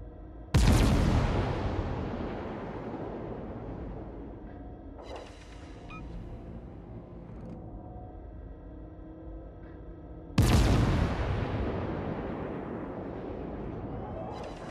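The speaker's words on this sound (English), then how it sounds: "Concentrate fire on the enemy warship." Naval artillery in World of Warships booms twice at the enemy warship, each heavy blast followed by a long rumbling decay, about ten seconds apart, with faint game sounds between.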